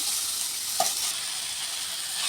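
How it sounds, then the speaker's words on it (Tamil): Onions and tomatoes sautéing in a pan for potato masala, a steady close hiss of sizzling with a faint stir partway through. "பாருங்கள் வெங்காயம் தக்காளி நல்லா ஓரளவுக்கு வதங்கிடுச்சு"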